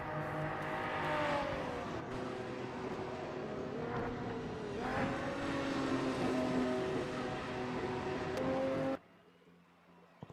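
Porsche 992 GT race cars lapping Sebring in the racing game Project Motor Racing, their engines sweeping up and down through gear changes, loud and continuous, before the sound abruptly drops away to near silence near the end.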